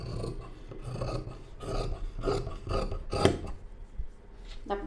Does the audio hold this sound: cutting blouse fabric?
yes